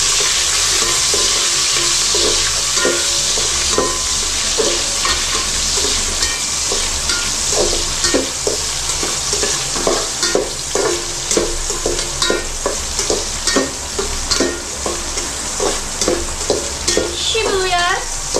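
Onion fries in a pan with a continuous loud sizzle, punctuated by a regular rhythm of spatula stirs and scrapes that grow sharper toward the end.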